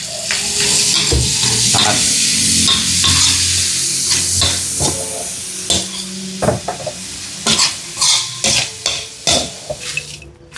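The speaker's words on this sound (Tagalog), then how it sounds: "Saka ko ulit palulutungin dito na sa mantika." Kuryat and kamaro fry in cooking oil with a steady sizzle while a utensil scrapes and stirs the pan, sharp clinks and knocks growing more frequent toward the end; a voice speaks briefly.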